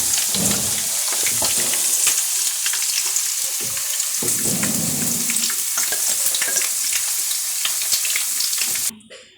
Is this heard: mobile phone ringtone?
no